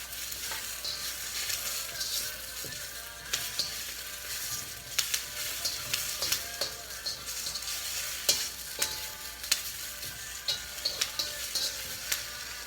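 Grapefruit stir-fry with sesame oil sizzles steadily in a pan, a continuous crackling hiss broken by frequent sharp ticks and scrapes of stirring, close and moderately loud with no talk.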